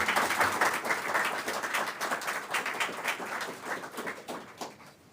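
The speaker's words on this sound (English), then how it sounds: "How about another round of applause for Dr. Espiritu?" Audience applause at a university engineering school announcement, many hands clapping steadily at moderate volume for about five seconds, gradually thinning out.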